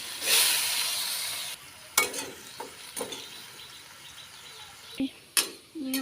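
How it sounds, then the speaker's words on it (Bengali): Potatoes fry in hot oil in a Bangladeshi village kitchen. A loud, close sizzle rushes up as they go in, then settles into softer, steady frying broken by a few utensil knocks. "এখন আলু ভাজিগুলো দিয়ে দিই, আগে আলু ভাজি করে নিই"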